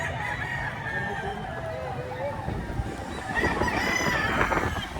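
Roosters crow and chickens cluck amid a noisy crowd at a Saturday chicken market in Lipa, Batangas, with voices talking throughout over a steady background din.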